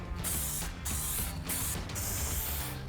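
Clear coat hisses from a spray can onto a Ford F-150 Raptor fender flare in several close, bright bursts of roughly half a second each, separated by short pauses.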